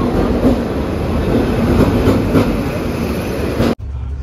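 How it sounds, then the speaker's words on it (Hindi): An Indian Railways passenger train rolls steadily with loud, continuous rumbling and rhythmic clatter, the noise cutting off sharply near the end to a quieter hum. "ट्रेन में बैठ लिया"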